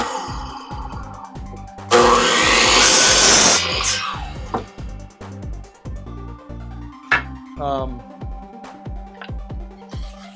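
A lathe setup cutting up a piece of wood, with a burst of loud grinding, buzzing cutting for about two seconds, followed by clunks, taps and scraping handling noises that recur steadily.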